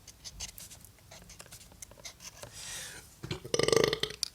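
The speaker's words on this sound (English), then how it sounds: "whiskey burps" A whiskey burp, a single throaty belch rising near the end after quieter shuffling and faint rustle, close and fairly loud.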